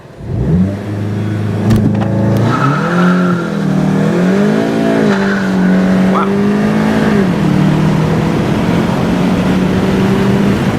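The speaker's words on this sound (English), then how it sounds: "tires were spinning coming out of first" A loud engine revs hard and climbs through rising pitches as a manual-transmission Volkswagen launches with launch control, tires spinning out of first gear, with a brief exclamation over the roar.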